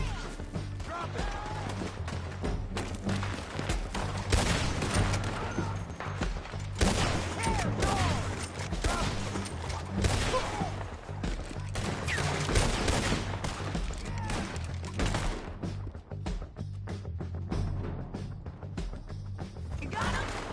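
Sustained gunfire during a chaotic shootout, with rapid bursts, single cracks and impacts repeating for twenty seconds, loud and close, while shouting voices break in now and then.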